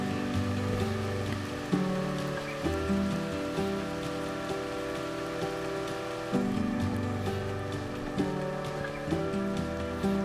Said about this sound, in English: It didn't take long for the clouds to open up and the rain to fall much heavier.